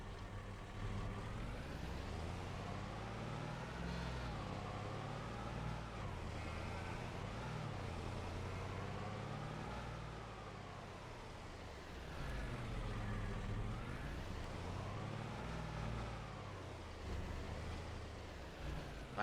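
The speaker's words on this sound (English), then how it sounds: "let's get in the noisy truck" Noisy truck in a farming video game, driving with a rough, continuous engine roar that rises and falls as it moves, heard alone and fairly prominent throughout.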